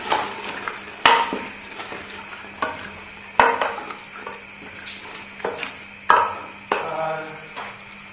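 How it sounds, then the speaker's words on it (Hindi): Keema with vegetables fries and is stirred in a pot, with a soft continuous sizzle broken by sharp spoon scrapes and clanks against the metal every second or so, fairly quiet and close. "मैं इसमें सब्जी डाल दूंगी, सारी सब्जियां डाल दूंगी और 10 मिनट भून के तो दम पे रख दूंगी।"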